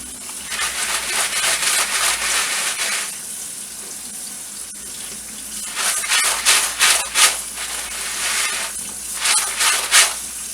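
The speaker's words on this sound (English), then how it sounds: "You want to make sure you give them a good wash" Dry pinto beans being washed under running tap water in a kitchen sink, splashing and rushing in bursts with a pause in the middle, close and fairly loud.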